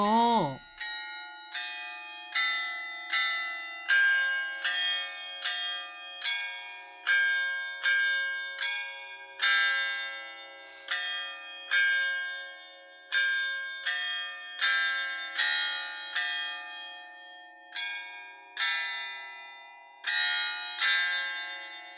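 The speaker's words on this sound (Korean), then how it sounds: "정말 종을 치고 있군요" Church bells at Namyang Marian Cathedral, a red-brick building, ring in a steady, repeated pattern of clear metallic strikes, each tone decaying into overlapping resonance. The peal sounds close and continuous, with no talking over it.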